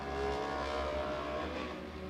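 A loud race car engine at a Sunday main-event race, a steady heavy roar with low rumbling harmonics that holds near and constant for about two seconds, then eases slightly toward the end.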